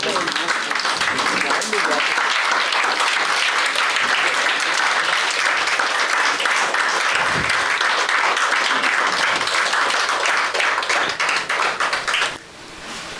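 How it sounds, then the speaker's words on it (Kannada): At an award ceremony during the Nadagramotsava 2025 inauguration, a large audience stands and gives a big round of applause. The clapping is dense, loud and steady for about twelve seconds, then drops off abruptly. "ಎದ್ದು ನಿಂತು ಎಲ್ಲರೂ ಒಂದು ದೊಡ್ಡ ಚಪ್ಪಾಳೆ ಕೊಟ್ಬಿಡಿ ಇವರಿಗೆಲ್ಲರಿಗೂ."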